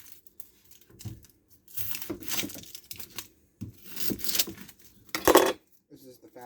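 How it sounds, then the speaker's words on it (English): A knife quickly chopping onions on a board, with bursts of rapid cutting and crunching interspersed with brief pauses, close and moderately loud. "Gonna do some fast cutting."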